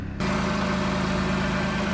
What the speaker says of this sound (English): Let me pop the hood so you can listen to it run.